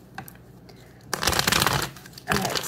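Tarot cards are shuffled close by, soft riffling flutters followed by two louder, dense bursts of card clatter.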